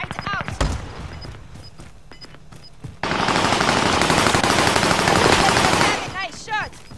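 Gunfire from an online shooter game erupts as a long, dense machine-gun burst after scattered single shots, loud and close, with brief voice chatter and game sounds around it.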